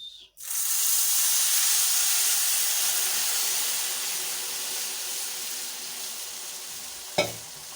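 Sugar syrup poured into hot roasted semolina, a sudden loud steaming hiss and sizzle that slowly eases off, ending with a short clatter, no talk.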